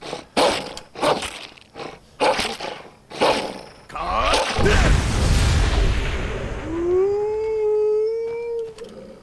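A dog in Skyrim whines and cries after a few sharp impacts, ending in a long rising howl that trails off, loud and close in the game audio.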